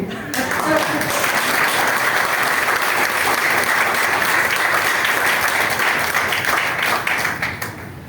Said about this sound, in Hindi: एक बार मैं जोरदार तालियां चाहूंगा